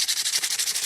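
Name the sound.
sandpaper scratching writing off a saw handle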